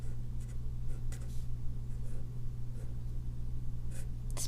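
Marker drawing on a classroom board, a few short squeaky strokes spaced out over a steady low hum, close and fairly faint with no talk.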